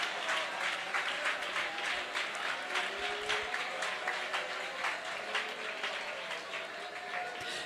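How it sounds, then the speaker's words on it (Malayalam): Church congregation clapping together at a Malayalam Christian service, a steady run of fast rhythmic claps, moderately loud and sustained over background murmur. "ശക്തിയോടെ കൈയടിച്ചേ"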